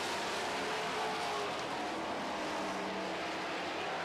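Super stock race cars roar around an oval track in a feature race, a dense, steady engine drone with broadband rumble that stays loud and continuous throughout, no voices over it.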